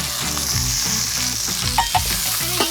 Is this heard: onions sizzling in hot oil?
yes